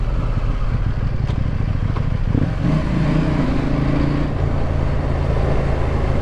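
A KTM 790 Duke motorcycle engine roars loud and close while riding, the steady drone dipping and shifting in pitch as the quick shifter changes gears, with wind buffeting throughout.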